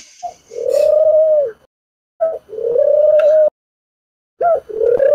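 A pigeon coos in three separate phrases, each a soft rolling series of low throaty notes with short silences between. It sounds close and clear, with no talking.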